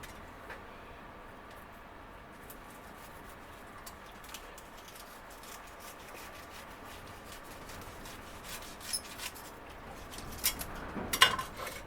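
A knife fillets a thawed but still firm shark to make chum for porbeagle fishing, producing quiet, continuous rasping and scraping that grows louder and more uneven toward the end.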